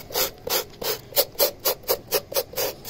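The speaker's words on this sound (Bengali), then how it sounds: "আর এই বড় ব্রাশটা দিয়ে এই সাইডগুলোকে এভাবে পরিষ্কার করব" A large brush scrubs the sides of bare feet in quick, regular back-and-forth strokes, about a dozen rasping swishes in steady rhythm, close and clear with no talking.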